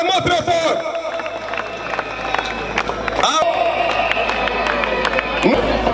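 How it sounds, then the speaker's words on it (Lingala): Crowd at an open-air political meeting of the RDT allies of the UDPS, a steady wash of clapping and cheering with voices and hubbub throughout, loud and close, swelling toward the end. "Acclamons très fort, acclamons très fort."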